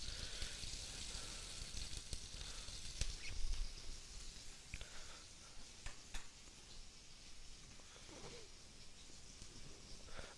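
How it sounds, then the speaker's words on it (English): Beef steak sizzling in a hot frying pan, a steady crackling hiss with scattered pops, moderately quiet and continuous with no talk. "As long as you have a nice sizzle in the pan"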